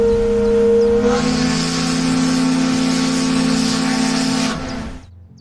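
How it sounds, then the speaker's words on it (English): A steam train whistle blows in a long sustained blast with a hissing edge, loud and close, starting after a brief lead-in and cutting off near the end, with no talk over it. "Guess we'd better hear that whistle of yours before you leave, eh?"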